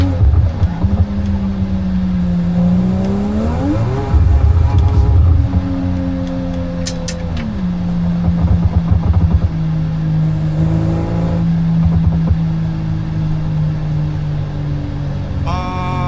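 A Toyota Supra in the BeamNG driving game revs and holds its engine note, the pitch rising and falling in long sweeps with sharp bursts, loud and close without any talking.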